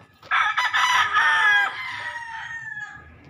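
Large chickens in a backyard flock: a rooster lets out one loud, close crow that trails off, with hens clucking faintly underneath.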